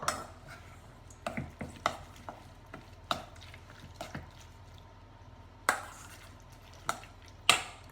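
Prune cake batter being mixed with compote in a bowl, heard as irregular sharp taps and scrapes of the utensil, some close and louder, over a quiet low background hum.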